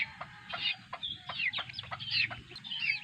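Several hens and chickens cluck and chatter in quick overlapping calls, close and fairly loud, with a faint background hum.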